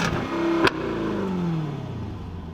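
A Jaguar F-Type R exhaust blips sharply once with a loud crack, then the engine note falls away in a smooth descending drone as revs drop, close and without talk.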